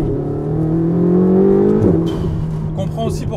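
A Ferrari 488 fitted with a Novitec exhaust gives a short, loud rev that climbs in pitch and then drops back to a rumbling idle, heard up close.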